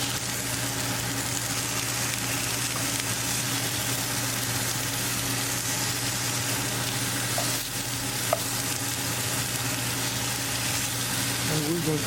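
Breaded rockfish fillets pan frying in hot oil, a steady dense sizzle and crackle that holds at an even level throughout, with faint kitchen clatter near the end.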